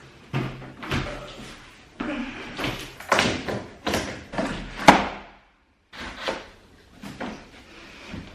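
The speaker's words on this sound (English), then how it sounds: "I thought we could do a quick unboxing before I build it" Cardboard furniture box being unboxed in an apartment, with a string of close thumps, taps and scraping rustles in uneven bursts, then a brief silence before more handling noises.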